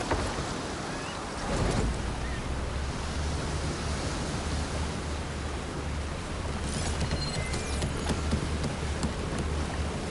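Steady broadband wash of waves and water rushing past a sailing boat in a video game, continuous and fairly loud with a low rumble underneath, no talking.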